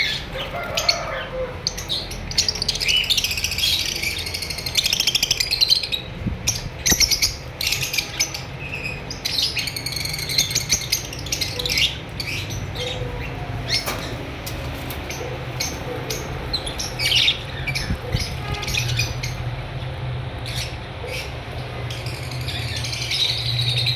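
Red-eye albino personata lovebirds kept as breeder pairs chirp, tweet and squawk continuously, a busy chorus of sharp calls at close range, with occasional wing flutters.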